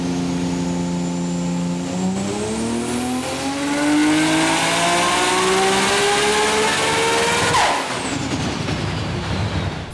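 A Nissan GT-R fitted with a Garrett G35-1050 single turbo revs hard on a dyno, its engine note climbing steadily in pitch toward about 9500 rpm before cutting sharply and settling back, loud and close.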